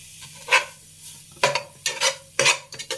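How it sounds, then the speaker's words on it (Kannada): Grated coconut roasts in ghee in a pan for coconut burfi, with a spoon scraping and stirring in several close strokes over a soft, steady sizzle. "ಚೆನ್ನಾಗಿ ಹಿಂಗೆ ಹುರ್ಕೋಬೇಕು ತೆಂಗಿನಕಾಯಿನ"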